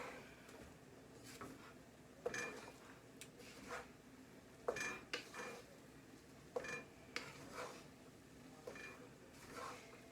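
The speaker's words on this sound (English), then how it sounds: "This is very hard to stir." Jamaican jerk tofu being stirred in a pot on a gas stove, quiet intermittent scraping and knocking strokes spread irregularly, faint and close, with no talking.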